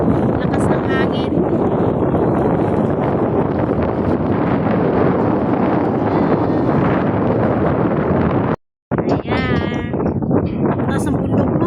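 Strong wind buffets the microphone on an exposed high point at Hong Kong's Gold Coast, a loud continuous roar with gusts, cutting out briefly near the end before resuming.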